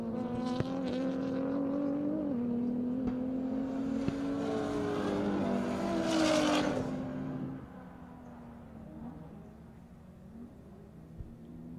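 A race car lapping Buttonwillow Raceway during a GTA Super Lap time-attack championship, its engine droning loud and steady with shifting pitch, swelling near the middle as it passes close, then fading to a quieter, more distant hum.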